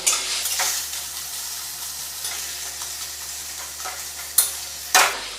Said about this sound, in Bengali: ভালো করে কষাই, ভাজা ভাজা করি একটুখানি